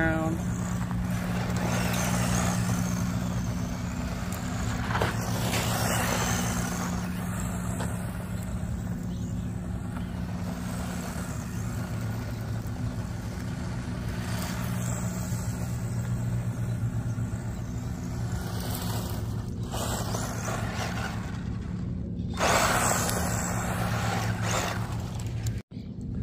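A Tamiya Fast Attack Vehicle radio-controlled car rips around a ball park, its motor giving a steady, loud, unbroken drone that holds for the whole stretch before cutting off abruptly at the end.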